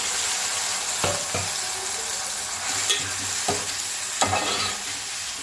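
Tomato pieces fry with onions in a pan, giving a steady sizzle throughout, while a spoon stirs and scrapes the pan a few times in soft, irregular knocks. No one speaks.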